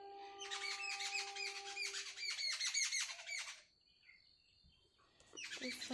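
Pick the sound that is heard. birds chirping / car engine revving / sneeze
birds chirping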